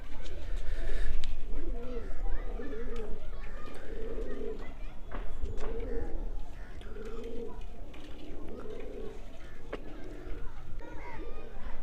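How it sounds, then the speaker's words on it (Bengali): A flock of pigeons coos steadily while eating, repeated low rolling calls with bird movement and shuffling, and a person talks over them. "একটা একটা করে সব কবুতরগুলো আসছে এখন প্রথম প্রথম হয়তো বুঝতে পারবে না অনেক কবুতর আছে"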